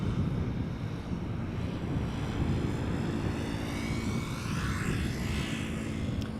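An airliner lands on Schiphol's Polderbaan runway on a gusty crosswind day, its engine whine building steadily under heavy wind rumble on the microphone, distant but sustained, with no voices.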